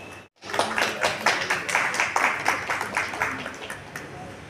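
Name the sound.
loud applause at Congress committee event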